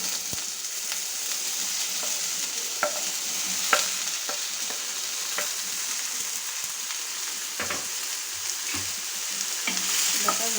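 Tomatoes stirring and frying in a pan for Tamil-style egg curry (muttai kulambu), a steady close sizzle with intermittent scraping clicks of the spoon, no voices.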